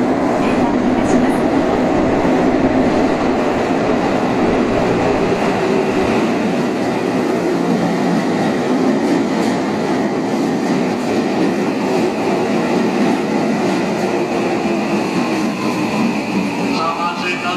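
A Tokyu Shin-Yokohama Line train running on rails, a loud continuous rumble with rattling wheels and steady clatter throughout, heard from inside the car.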